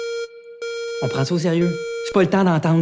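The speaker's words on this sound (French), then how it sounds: "C'est une alarme d'incendie." A school fire alarm sounds a steady, piercing electronic tone with short breaks, continuing loudly beneath a person speaking French over it.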